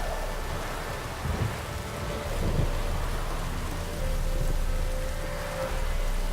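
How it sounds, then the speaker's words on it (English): Rain falls in The Witcher 3: Wild Hunt, a dense continuous hiss of raindrops with low thunder-like rumbles, steady throughout and fairly loud. "Now it's raining."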